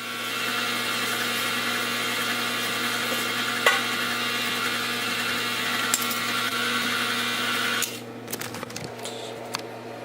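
An electric mixer whirs steadily while creaming sugars, butter and Crisco into cookie dough, a constant motor hum that cuts off near the end, leaving faint clinks and handling sounds.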